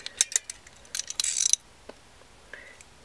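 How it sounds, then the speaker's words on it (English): Recoil spring being pulled from a Star Modelo Super B pistol, giving a few sharp metallic clicks and a brief springy rattle, close and fairly quiet. "You can see the recoil spring wants to pop out, so we're going to go ahead and pull it out."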